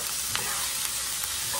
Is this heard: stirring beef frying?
yes